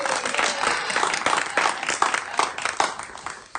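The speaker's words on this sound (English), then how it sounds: "Yeah, round of applause. Round of applause." An audience at a kitchen-table music show claps and cheers to welcome a guest, a loud dense round of applause building and continuing throughout.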